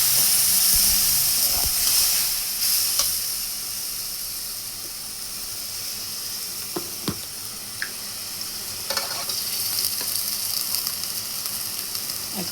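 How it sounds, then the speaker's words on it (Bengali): Ginger-garlic paste, turmeric and chilli powder sizzle in a pan with a splash of water while egg bhuna is being cooked, giving a steady close hiss with occasional stirring scrapes and clicks. "মশলা কষানোর জন্য সামান্য পরিমাণ পানি দিয়ে দিব।"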